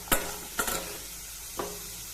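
Salted kara kulambu with butter beans, drumsticks and potato sautéing in a pan, a soft sizzle running under three separate scrapes of a spoon against the pan, near and without talk.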